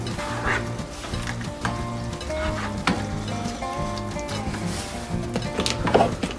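A utensil scrapes and knocks in a pan as spicy squid-flavored boiled noodle soup is stirred, over a steady simmering sizzle, close and moderately loud.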